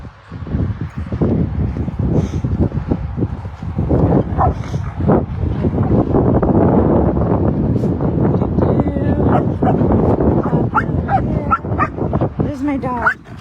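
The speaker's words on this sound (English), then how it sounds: "There's my dog. That's how she talks to her brother." A ranch dog called Halo barks and whimpers loudly and continuously, yelping and whining at another dog, with a person talking now and then.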